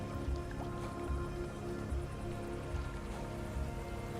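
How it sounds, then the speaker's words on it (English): Steady rain hisses and patters in the video game Rain World, with soft, regularly spaced low thumps beneath the continuous wash. "it's raining now"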